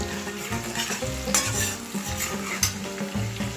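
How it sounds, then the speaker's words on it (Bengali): Onions frying in a pan with a pinch of salt, a steady close sizzle broken by scraping stirs and light clinks of the spoon against the pan. "পেঁয়াজটা আমার ভাজা হয়ে এসেছে।"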